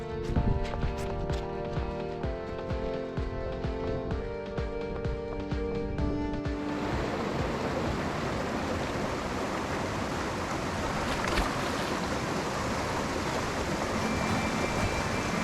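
Steady broadband rushing of river water during a swim, a close continuous wash and splash that fills the clip, with a denser, more churning stretch at the start before settling into an even, loud flow.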